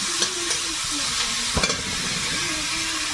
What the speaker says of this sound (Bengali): তেলে পেঁয়াজ দেবো, এক পাকে একেবারে পটলের তরকারিটা চাপিয়ে দিই।